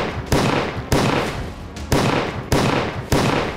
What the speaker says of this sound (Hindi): यहां कुल 15 राउंड गोलियां चलाई गई